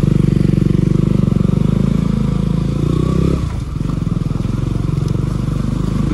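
A KTM Duke motorcycle engine idles steadily up close with a loud, even throbbing pulse, dipping briefly midway before settling back into its rhythm.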